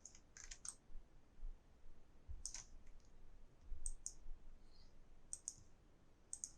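Computer mouse clicking in a handful of crisp, close clicks, some paired in quick doubles, spaced a second or so apart over a quiet background.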